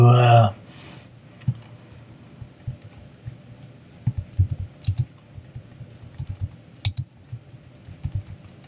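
Scattered bursts of light key taps on a computer keyboard while text is entered in Photoshop, irregular clicks and short runs of typing at close range with pauses between.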